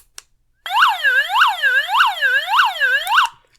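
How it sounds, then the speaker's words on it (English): A loud electronic warble siren from an E-Sky ES-CR03 AM/FM NOAA emergency radio sweeps up and down in five even cycles, close and alone, after a brief click. "It flashes the light and does a siren."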